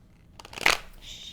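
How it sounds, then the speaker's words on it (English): Tarot cards are shuffled in a single short riffle, a quick close rustling burst that ends in a soft flutter. "Let me shuffle one more time."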